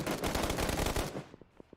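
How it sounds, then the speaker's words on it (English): Dense automatic gunfire crackles loudly through a PUBG Mobile esports match, rapid bursts merging into a continuous roar before trailing off into a few scattered single shots. "as gunshots just erupt all around this area"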